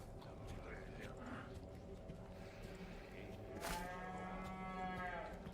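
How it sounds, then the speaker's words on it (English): A cow moos in the Resident Evil 4 Remake video game, one close, drawn-out bellow standing out over busy game background noise, with some talk nearby. "Shut up, cattle."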